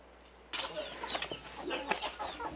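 Chickens on a rural farm in a remote Chinese mountain village break into close, busy clucking after a moment of quiet, with several bursts overlapping in an irregular rhythm.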